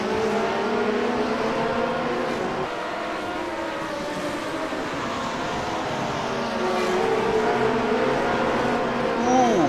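Race cars roar around Monza in iRacing's Grand Prix Legends setting, with a steady, loud engine drone as several cars pass close by, their pitch rising and falling with no clear gaps.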